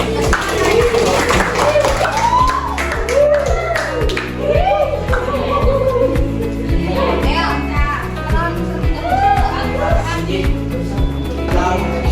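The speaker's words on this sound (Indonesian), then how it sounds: "Tepuk tangan dulu ya." A classroom of students clapping in rhythmic unison for a group called up to present, a sustained patterned applause with children's voices chattering underneath throughout.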